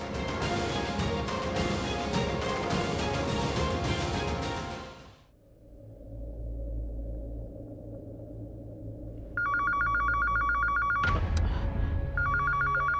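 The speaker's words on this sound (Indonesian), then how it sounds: "Ya, telepon rumah berdering, Bu." A home landline telephone rings with a steady electronic trill from about the ninth second, over a low rumble that follows a stretch of loud dramatic music.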